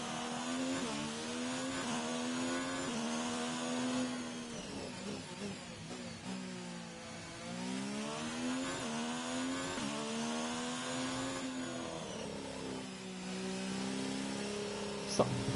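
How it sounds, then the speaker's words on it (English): A damaged Formula 1 car engine in the F1 2019 racing game, growling and rattling as it revs up and down in repeated sweeps, loud and continuous with faint talk at times. "My engine sounds like it's messed up or something. I hear this kind of weird growly rattle."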